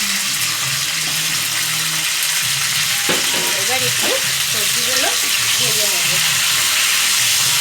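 Eggplant and vegetables frying loudly in a pan, with a dense continuous sizzle and hiss throughout as pieces are tossed in and stirred, a voice speaking briefly underneath.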